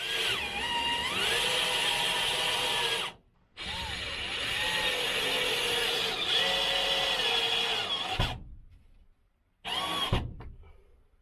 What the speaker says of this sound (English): So I'm gonna basically screw the clips up to the rafter